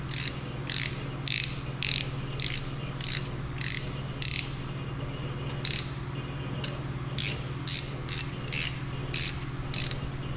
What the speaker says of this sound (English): I've just kind of snugged them up with a wrench